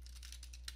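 Keystrokes on a computer keyboard, several light taps in a quick irregular run over a steady low hum, with no talking.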